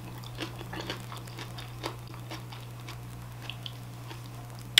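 Kimchi is chewed close to the microphone, with soft wet crunches and bites spaced irregularly over a quiet, steady electrical hum; no one speaks.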